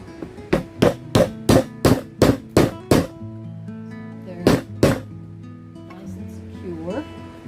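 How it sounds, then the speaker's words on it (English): Sharp hammer blows on wooden pieces being glued into holes, eight quick strikes in a steady rhythm, a pause, then two more, close and loud, with a voice briefly afterward. "Hammer them down in."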